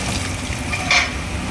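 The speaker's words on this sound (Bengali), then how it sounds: "আলু ভাজা প্রায় কমপ্লিট।" Potatoes fry in oil in a pan as they are stirred, a steady soft sizzle with a brief scrape of the utensil near the middle, heard close and without speech.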